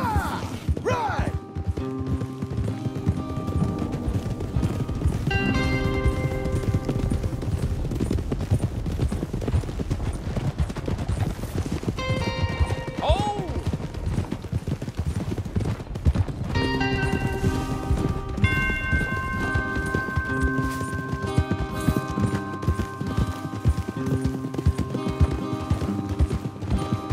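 Horse hooves clip-clop rapidly in a galloping rhythm in the video game Red Dead Redemption 2, with occasional whinnies and thuds over a continuous bed of movement noise.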